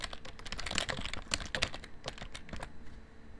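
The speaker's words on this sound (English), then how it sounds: "So now I'm just going to type in some "we believe actions speak louder than words."" Someone types a sentence on a computer keyboard: a rapid, uneven run of close, crisp key clicks with brief pauses between bursts, alone and without talk.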